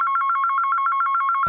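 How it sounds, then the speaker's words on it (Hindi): Old-style telephone bell ringing at night, a rapid continuous electric trill of evenly pulsed rings, clear and alone, cut off abruptly at the end. "उसी रात ठीक 1 बजे फिर फोन की घंटी बजी"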